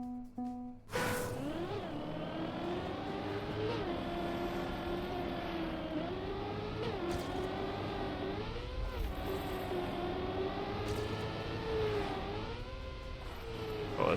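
A car in the Trackmania racing game revs its engine hard with rising and falling pitch as it accelerates, lands jumps and shifts. It is loud and continuous after a brief quiet start, with no voices.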